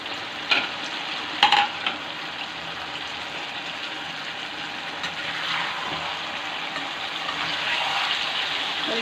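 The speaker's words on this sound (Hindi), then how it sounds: "अब इसके अंदर हमने जो टमाटरों का पेस्ट बना के रखा है उसको ऐड करेंगे।" Tomato paste hits a hot pan over a raised flame with a loud, continuous frying hiss that swells toward the end, marked by a couple of brief clattering stirs early on.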